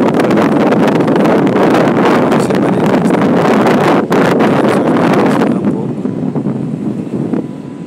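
Strong wind buffeting a microphone during a bicycle ride from Paulino Neves toward Atins in the Lençóis Maranhenses, a loud, constant roaring rush that eases slightly toward the end.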